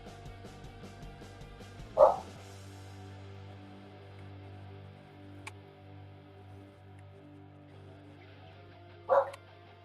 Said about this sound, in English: Ignore the dog barking.